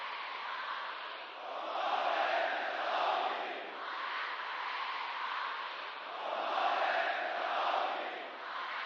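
A huge crowd at a rally in Iran chants in unison, a dense roar rising and falling in slow waves, steady and distant with no single voice standing out.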